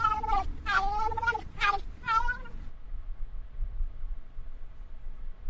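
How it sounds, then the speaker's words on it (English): Sped-up cat meows from the video game Pokemon Scarlet, four or five quick high-pitched mewing cries in a row over a steady low game-music background, then only the music continues. "That's a weird cat noise. It's sped up."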